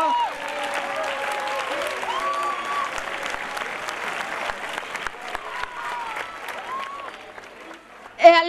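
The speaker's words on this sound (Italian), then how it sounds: "Facciamo di nuovo un forte applauso all'orchestra" A large crowd claps steadily and loudly for several seconds for a high school orchestra at a Christmas concert, a dense sustained applause that tapers slightly near the end.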